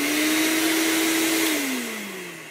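A shop vacuum runs with a loud steady whine and airflow roar, then its tone slides lower and fades as the motor spins down.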